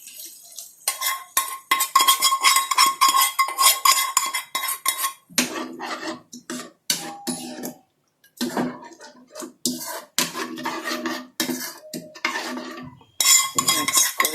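Chicken being stirred with beaten yogurt in a pot for Nepali chicken chukauni: close, repeated metal-spoon scrapes and clinks against the pan in uneven bursts, with brief pauses and no speech.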